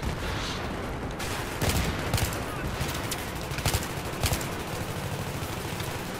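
Battlefield 3 video game combat, with rapid bursts of automatic gunfire and sharp blasts over a dense, noisy battle bed, loud and close throughout.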